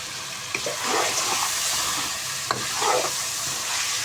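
Spiced chicken with turmeric, cumin, fennel and crushed coriander stirred and fried in a pot for an aloo chicken shorba: a steady close sizzle with scraping spoon strokes recurring every second or so, no voices.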